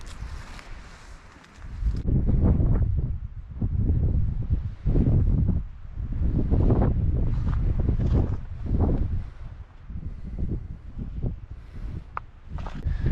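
Wind buffets the microphone near the Lake of the Clouds on the Appalachian Trail in the mountains, coming in loud, low, rumbling gusts that rise and fall irregularly with brief lulls between them.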